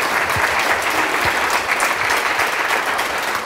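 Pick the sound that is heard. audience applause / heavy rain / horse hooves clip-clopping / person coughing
audience applause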